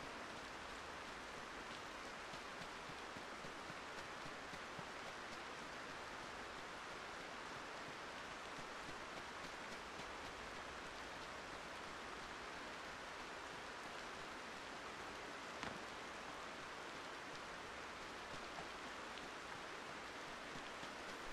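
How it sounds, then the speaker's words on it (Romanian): Steady rain in the battle royale game Ring of Elysium, a soft, even hiss of falling water that holds unchanged throughout, faint and continuous, with no voices over it. "Și ținând cont că merg prin ploaie,"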